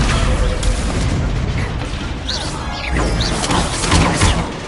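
Confringo spell blast in a Harry Potter-style video game: a booming, crashing impact with dense noisy rumble that stays loud through the clip, with a few brief crackles and swells.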